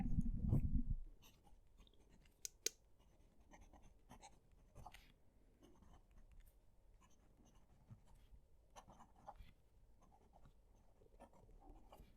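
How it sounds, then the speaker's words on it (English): A fountain pen scratches steadily across paper up close, a soft continuous scrape of nib strokes with small pauses between words, alone and without talk after a brief thump at the start. "I'm going to move the microphone so that you can hear the pen write."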